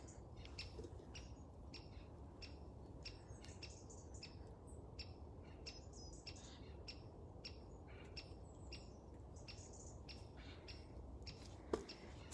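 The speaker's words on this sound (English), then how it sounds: "Still hear the woodpecker, if anyone can still hear us." A woodpecker in a hawthorn wood gives a steady series of sharp, evenly spaced knocks. They sound faint and distant over a soft outdoor background.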